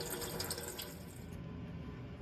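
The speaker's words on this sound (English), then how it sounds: "Now I'm gonna run the butter under cold water and then pat it dry and form it." Cold water runs from a kitchen tap over homemade butter, a steady hissing stream that stays even and fairly quiet throughout, with no talking.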